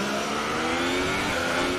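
A Red Bull Renault Formula 1 car in the racing game F1 2018 drones with a loud, steady high-pitched engine whine, sustained and close throughout with no talk over it.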